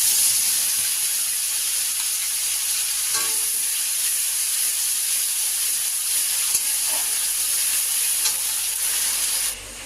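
Spice paste for a Bhola fish curry fries in hot oil with whole cumin, whole garam masala and a bay leaf, giving a steady, loud broadband sizzle that holds evenly throughout, with a few faint stirring clicks and no talking.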